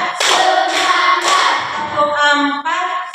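A school class chants in unison and claps along in a counted rhythm, with sharp group claps landing between the sung counts at close range.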